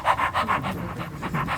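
A person imitates a dog panting, giving quick rhythmic breathy huffs about eight times in a steady pulse, close and fairly loud, with no talking.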